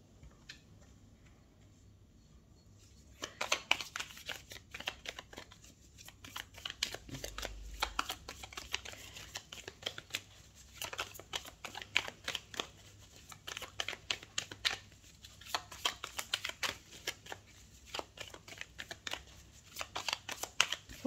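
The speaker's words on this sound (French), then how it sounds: "Je vais m'abstenir de parler pendant le mélange de cartes." Tarot cards are shuffled up close in a quiet room: a soft, steady stream of crisp ticking and riffling card snaps that starts after a brief pause and carries on alone, faint but distinct.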